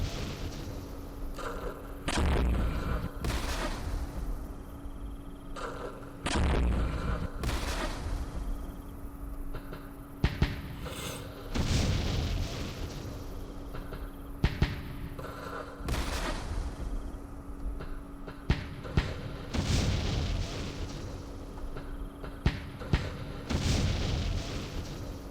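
Repeated artillery fire and explosions in the Vietnam war game Campaign Series Vietnam at Dien Bien Phu: a dozen or so heavy booms arriving every few seconds, each with a rumbling tail, and no talk.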